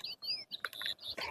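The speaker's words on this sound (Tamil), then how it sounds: "அந்த மாதிரி குருவி கத்தத்தெல்லாம் கேக்குதா?" Sparrow chirps play from an eye massager machine, a quick series of faint, high, thin electronic tweets and trills in short bursts, heard alone.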